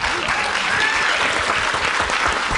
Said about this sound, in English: first of all, a round of applause for Dolly.